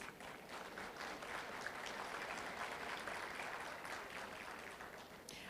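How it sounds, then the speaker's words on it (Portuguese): An audience at a panel session on expanding a national power grid applauds the invited guests, with faint, sustained clapping that carries on evenly for several seconds before thinning out. "Vamos receber com aplausos os nossos convidados."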